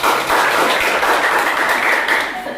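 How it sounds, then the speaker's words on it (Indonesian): A crowd applauds with dense, steady clapping that continues throughout and then begins to fade toward the end. "Tepuk tangan dulu."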